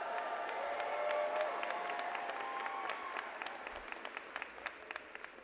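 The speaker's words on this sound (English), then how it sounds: "You can applaud." At the PCOM Georgia 2024 commencement ceremony, a large audience claps in a sustained round of applause that gradually thins to scattered claps, heard from a distance in a reverberant hall.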